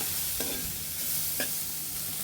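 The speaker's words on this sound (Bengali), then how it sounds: "আমাদের মশলাটা ভাজা ভাজা হয়ে গিয়েছে" Spice paste with ground coriander and a splash of water sizzles steadily in a pan, broken by two sharp scrapes of a spoon stirring it, close and fairly loud.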